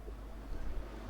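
Strong gale-force wind buffets the microphone on an exposed hilltop at St Catherine's Oratory, a low steady rumble with gusty swells, continuous and alone for about a second.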